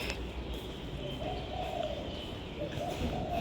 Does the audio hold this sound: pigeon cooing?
yes